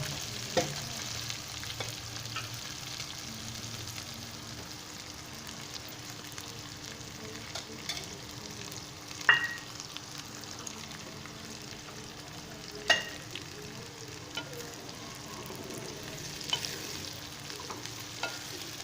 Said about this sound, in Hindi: अब इस घी में मैं इन करेलों को अच्छे से फ्राई कर लेता हूँ।